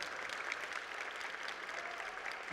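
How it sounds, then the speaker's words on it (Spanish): Audience applause at a book presentation during the FIL Minería book fair, a steady dense clapping from a crowd sustained throughout, moderately distant and without talk over it. "Por favor, David, un aplauso para él."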